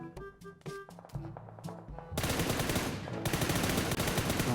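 Gunfire in PUBG New State while the player crouches and stands, with scattered single shots and clicks that give way to loud, sustained rapid automatic fire continuing to the end.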